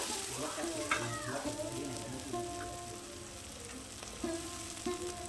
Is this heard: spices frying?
yes